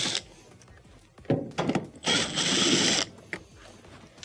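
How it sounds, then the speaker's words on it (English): T20 Torx screws come out from under the dispenser of a washing machine, heard as close ratcheting and clicking bursts of a driver, with a longer whirring turn in the middle. "underneath here we have 2 T20 Torx screws that have to be taken out"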